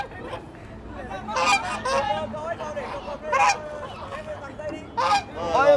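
Geese on a pond give loud honking calls in several bursts, some single and some in quick overlapping pairs, with quieter gaps and a soft background murmur between them.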